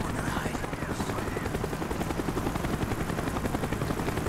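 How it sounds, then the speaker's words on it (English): A helicopter in a video game shooter, its rotor chop circling as a dense, loud, continuous thumping wash that fills the scene without spoken words. "The chopper is coming around again."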